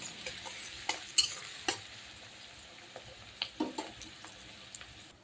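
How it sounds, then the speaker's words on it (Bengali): Onions being stirred in hot oil for a country-chicken curry give a soft, low sizzle, broken by sharp scraping clicks of a spoon against the pan. The clicks come in uneven bursts, close by, with no talking. "তেলে নেড়ে চেড়ে নেব। একটু লাল হবে পেঁয়াজটা"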